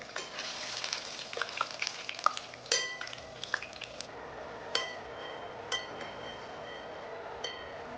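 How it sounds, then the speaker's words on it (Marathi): Pumpkin flower pakode deep-fry in oil over medium to high heat with a soft, continuous bubbling sizzle. Occasional light clinks and taps of a utensil against the pan sound throughout, fairly faint and with no talking. "मीडियम टू हाय हीटवरतीच आपल्याला छान तळून घ्यायचं आहे"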